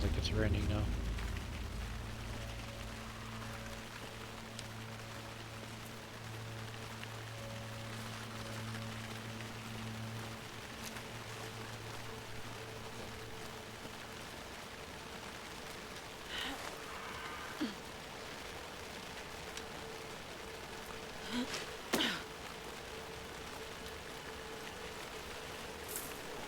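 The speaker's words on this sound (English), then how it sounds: "Sounds like it's raining now." Steady rain in the horror video game Alan Wake 2 forms a broad hiss under a dark ambient drone, with a few sharper splashes and creaks later on and a voice speaking over it.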